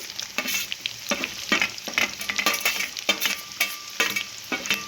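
Cumin, green chillies, ginger-garlic paste and onions fry in ghee and oil for paneer masala, giving a loud, continuous sizzle with repeated bursts of scraping and stirring in an uneven rhythm.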